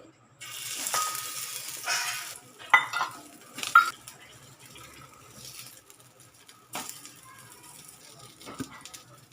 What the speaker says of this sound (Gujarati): તો આપણે હવે આને તળી લઈશું. તળવા માટે આપણે થોડુંક જ તેલ મૂકવાનું છે અને ધીમો ગેસ રાખવાનો છે.